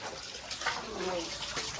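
A plastic container is filled to the brim with water, giving a brief gushing, splashing flow with a fluttering rise and fall over a couple of seconds.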